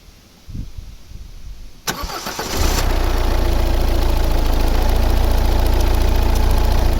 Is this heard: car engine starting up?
yes